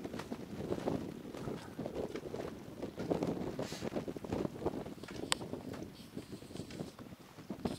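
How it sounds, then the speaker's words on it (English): Wind blows in the Himalayan mountains of Langtang, Nepal, as a steady, low, gusty rumble buffeting the microphone, fairly faint and unbroken, with no talking. "Also, it's so windy."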